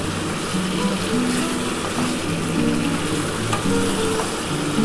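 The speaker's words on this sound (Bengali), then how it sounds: "আর এই টমেটোটা দিয়ে দিচ্ছি। ভালো করে একটুখানি এটার সাথে নাড়াচাড়া করতে হবে।" Chopped tomatoes stirred into frying chilli chicken in a pan, giving a continuous sizzle with stirring and scraping noises under background music.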